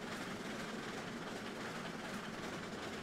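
A train rolls along in the railway game Railroads Online, a steady dense rumble and rattle of wagons with faint clickety-clack, continuous and fairly near, with no talk.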